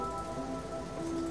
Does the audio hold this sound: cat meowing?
no